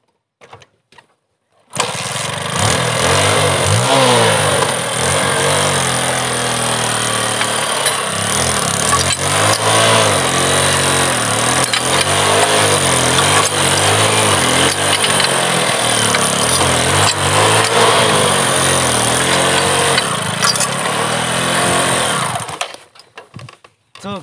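A motorcycle fitted with a glass Coca-Cola bottle starts abruptly and runs loud and close, its rough engine idling and revving unevenly for about twenty seconds before cutting out.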